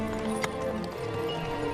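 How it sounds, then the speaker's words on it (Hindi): A horse's hooves clip-clop through a dense, steady wash of background sound, with a possible brief whinny near the start, all at a constant moderate loudness. "अब अगर ये घोड़ा भी युज़ार सिंह को मजीद मारा तो हम में से कोई भी काम नहीं करेगा।"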